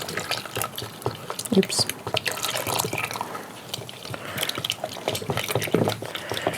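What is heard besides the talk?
stirring a liquid mixture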